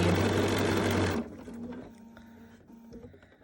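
A Bernina sewing machine with a 10D foot top-stitches binding onto a quilt, giving a fast, close mechanical rattle for about a second before stopping, followed by quieter handling sounds.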